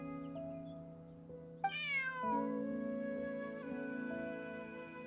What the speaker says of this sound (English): Bonnie is Pierre's cat.